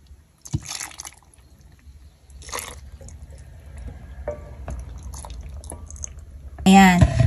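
Hot loquat syrup poured into a bottle, a liquid trickle and drip building steadily over a few seconds, with a louder splash near the end, heard close and under low background noise.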